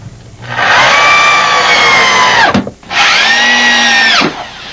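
Power drill driving screws into a storm door frame, two sustained whirring bursts of about two seconds each with a short pause between, loud and close, with no talking.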